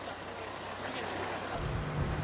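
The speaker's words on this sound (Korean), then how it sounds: "두 남자 배를 빌려 타고 수중 도시로 향하는데" A rented boat heads across the Mediterranean toward a sunken underwater city. Its engine drones low and steady under a constant rush of wind and water, and the rumble grows heavier near the end.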